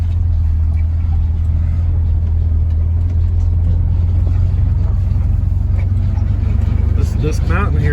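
A vehicle rolls down a hill at a landfill, its engine a steady, loud low rumble throughout with road and wind noise over it, and a voice talks over it.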